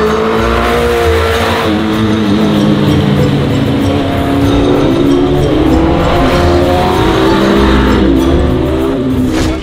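A mini truck fitted with a sport-bike motorcycle engine accelerates hard nearby, its high-pitched engine climbing steadily through the revs in a loud, continuous drone with rising harmonics.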